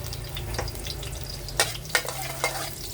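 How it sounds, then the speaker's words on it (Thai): Garlic stir-frying in a pan, with a steady close sizzle under brisk scraping stirs and a few sharper spatula clacks toward the end. "ผัดกระเทียมให้หอมนะคะ"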